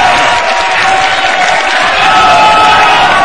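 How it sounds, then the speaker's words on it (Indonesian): Loud crowd at a Jakarta gubernatorial debate applauds and cheers for the supporters, a dense roar of clapping with whoops mixed in, sustained and close. "Tepuk tangan untuk para pendukung yang bersemangat malam hari ini"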